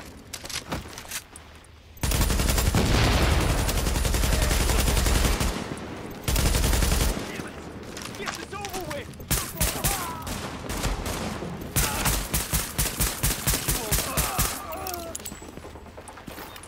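Video game gunfire rattles in long, loud sustained bursts of automatic fire, broken by brief pauses and followed by scattered single shots and shorter volleys, while a voice speaks over the action.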